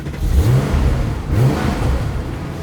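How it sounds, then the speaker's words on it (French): A Porsche 911 engine, an original 1973 RS kept in period condition, fires up at an auction backstage and revs in two rising low bursts, close and fairly loud, before settling into a rough idle. "On peut peut-être la faire démarrer cette voiture?"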